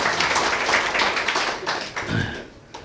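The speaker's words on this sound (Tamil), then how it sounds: "ஆமாம், ஒரு கைதட்டுங்க." An audience claps together at a talk on horoscopes, a dense, steady patter of many hands filling the whole stretch at moderate loudness, with faint murmuring under it.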